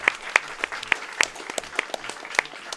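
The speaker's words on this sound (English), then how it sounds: "Can we get a clap for that?" Scattered clapping breaks out during a charity video game livestream, several distinct sharp claps in an uneven rhythm, close and fairly loud, as a few people clap together.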